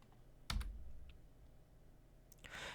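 Two isolated computer keyboard key presses, a sharp click near the start and a softer one near the end, heard faintly over a quiet room hum.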